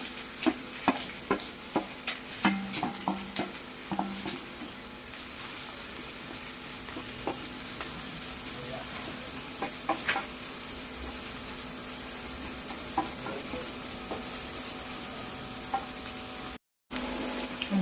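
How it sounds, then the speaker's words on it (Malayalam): Chopped onions and curry leaves sautéing in a pan for a clam meat fry. A steady sizzle runs throughout, with scattered clicks and scrapes of stirring, close and moderately loud, with no talk. "ഇനി നമുക്ക് സവോള ഉള്ളി ഇട്ട് കൊടുക്കാം എല്ലാം കൂടെ ഒന്നിച്ച് വഴണ്ടി വന്നോളൂ"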